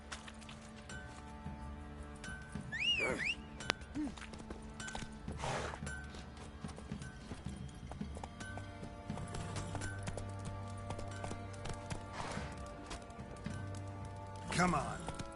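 Roach the horse's hooves beat at a gallop in The Witcher 3, a continuous clopping rhythm under game effects, with a couple of neighs and spoken dialogue over it.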